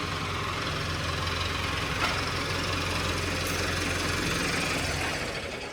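A tractor engine idles steadily with a deep, even low rumble and faint rattle, continuous and close, with no voices.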